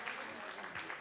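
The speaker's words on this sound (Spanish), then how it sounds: "Un aplauso para Dios porque es bueno" A church congregation applauds together, a faint, steady wash of clapping that continues evenly for the whole moment.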